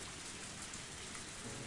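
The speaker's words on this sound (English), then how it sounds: "As the rain came down on me" Steady rain pours down in the horror visual novel game Higurashi When They Cry, a dense, even hiss of falling drops filling the scene without pause, with faint rumbling underneath and no voices.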